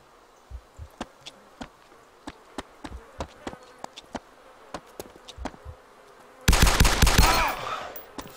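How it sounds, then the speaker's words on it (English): Gunfire in the video game DayZ: a string of sharp, separate shots at irregular intervals, then a sudden loud, dense burst of rapid fire near the end. "I shoot my gun. I make a so big noise."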